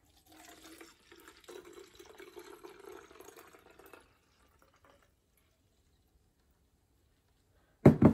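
Eight ounces of water pour steadily into a container for a few seconds, a soft, close trickle that then stops, leaving quiet before a sharp knock at the end.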